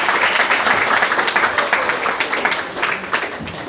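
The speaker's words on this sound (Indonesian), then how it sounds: "Oke, tepuk tangan untuk Mix." An audience at a Catholic youth public-speaking event in Indonesia applauds for someone named Mix, a dense, steady crackle of many hands clapping throughout, fairly loud and with no speech over it.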